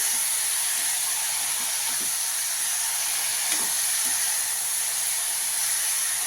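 Ridge gourd peel sautéing in a pan for chutney, a steady, even sizzling hiss that holds without a break, close and fairly loud.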